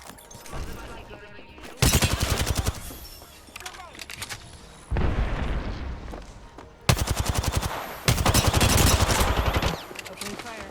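Automatic weapon fire in the video game Apex Legends comes in several loud, rapid bursts separated by short pauses, with quieter game sounds between volleys.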